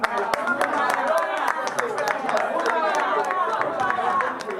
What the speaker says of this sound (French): est-ce qu'on peut au moins applaudir encore